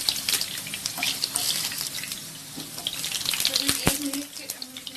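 Potatoes fry in a pan for chicken curry, giving a soft continuous sizzle with scattered crackles and a few sharper ticks, moderately close.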